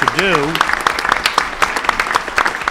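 Audience applause for a senator: a scatter of loud individual claps rising under and after a brief speaking voice at the start, continuing unevenly throughout.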